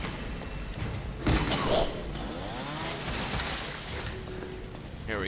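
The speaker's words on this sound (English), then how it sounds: "maybe chainsaws are what we need." A chainsaw revs in the video game Resident Evil 7, a harsh buzzing drone that swells and churns for several seconds, with a heavy thud near the start and a voice occasionally breaking through.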